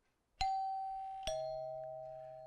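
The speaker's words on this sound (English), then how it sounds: "if you come to the front door of this home and you press this button right here, you will hear two chimes" Front door doorbell in a home rings two clear chimes, a bright ding then a lower dong about a second apart, each ringing out and slowly fading, close and alone.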